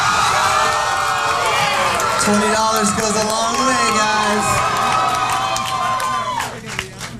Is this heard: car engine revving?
no